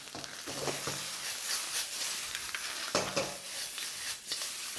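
Lobster pieces, head included, tossed in a wok with oyster sauce give a soft crackling sizzle with short bursts as the food is flicked and stirred, fairly quiet and with no talking.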